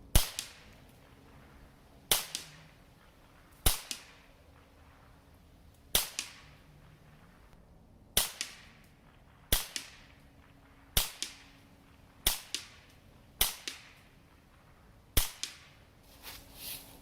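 Ten sharp .22 rifle shots from a Ruger 10/22, fired at a stovepipe about 50 yards off outdoors. Each crack is crisp and evenly spaced, roughly one every one to two seconds, with no talking.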